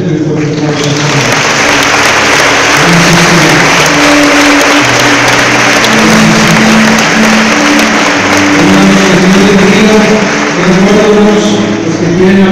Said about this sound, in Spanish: Te doy fuerte aplauso a ti.